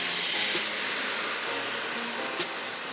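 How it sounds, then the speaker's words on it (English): A steady, bright hissing sizzle fills the clip continuously as pork birria tacos fry hard in a hot pan, with a faint tap or clink partway through. "Hear that sizzle."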